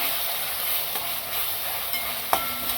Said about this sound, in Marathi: आता आपण त्यामध्ये हे आंबा लसणाची पेस्ट टाकू ती चांगली परतून घ्यायची